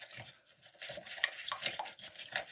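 A spoon stirs milk into custard powder in a bowl, making soft, intermittent scraping and light clinks against the dish, quiet and close, with no one speaking.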